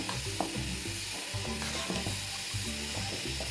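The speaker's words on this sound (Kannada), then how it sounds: "ನೋಡಿ ಇವಾಗ ಸಾಂಬಾರು ಕುದೀತಾ ಇದೆ." Bottle gourd sambar boiling in a pot gives close, steady bubbling and soft popping with intermittent clicks over a low humming background.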